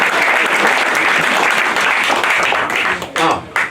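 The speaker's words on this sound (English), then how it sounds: "Give it up for Charlie" Audience applause fills a graduation comedy show, a dense, steady wash of clapping that runs loud and continuous, thinning briefly near the end.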